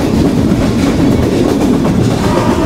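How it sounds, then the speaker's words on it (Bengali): The Kapotaksha Express, a broad-gauge intercity train, runs fast on its rails with a loud, continuous roar and rhythmic clatter of wheels, heard close up and steady throughout. "গতির দানব আন্তনগর কপোতাক্ষ এক্সপ্রেস রেল ট্র্যাক পুরো কাঁপিয়ে দিচ্ছে।"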